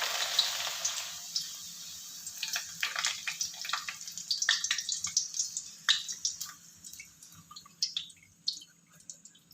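Sago vadam dropped into hot oil, frying with dense crackling sizzles and popping bubbles that swell and then gradually thin out, close and moderately loud, with no talking.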